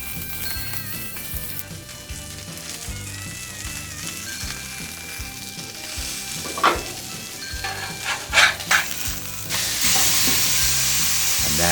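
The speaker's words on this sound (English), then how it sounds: "That is a nice contacted sear on that steak" A steak sears on an outdoor griddle with a steady, loud sizzle throughout, and a few brief scraping bursts partway through before the sizzle intensifies near the end.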